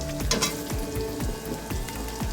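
Tomato pieces dropped into hot oil with crushed ginger sizzle steadily in a pan, a close, continuous crackling frying sound with a few soft stirring scrapes.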